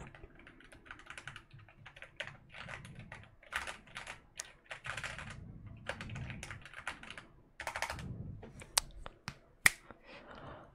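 Computer keyboard typing with clicky keystrokes in irregular bursts and short pauses, close and crisp, with a few sharper isolated clacks and no talking.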